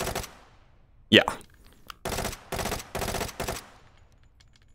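SR3M rifle from Hot Dogs, Horseshoes and Hand Grenades firing on full auto: a sharp crack followed by four short loud bursts of automatic fire, with one brief word spoken.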